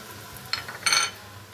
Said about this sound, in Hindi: अब मैं इसमें शामिल करूँगी ये लहसुन अदरक का पेस्ट